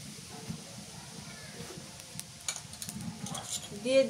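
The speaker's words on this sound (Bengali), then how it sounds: "এবার এই কড়াইয়ে সরিষার তেল দিয়ে দিই" Mustard oil sizzles and crackles in a hot wok while something is stirred, with a voice speaking faintly over the steady frying hiss.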